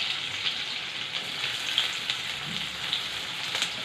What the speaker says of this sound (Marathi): आता त्याच्यात आपण स्लाइस केलेले कांदे, गॅस थोडा लो करून घ्यायचा